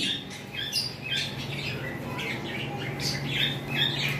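A large albino English budgerigar at a bird farm gives repeated scratchy squawks and chirps, fairly faint over a constant hum.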